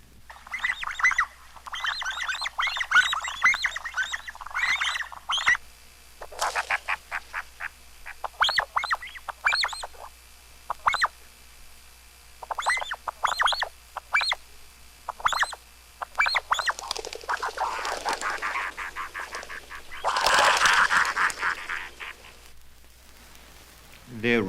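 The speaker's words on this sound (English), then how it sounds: "Its normal call is a liquid quito, but it also has a sharp cackle when the birds rise after drinking." An African bird at a waterhole calls in repeated liquid notes and sharp cackling bursts, coming in clustered runs with short gaps, fairly close, with a denser flurry near the end.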